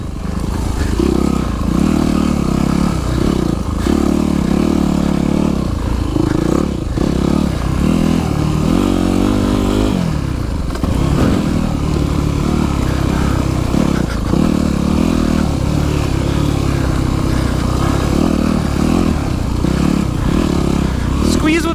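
A dirt bike engine on the Jones Creek forest trail loop drones loudly and continuously with shifting revs and rattling clatter, briefly dropping off near the middle, while a rider shouts over it.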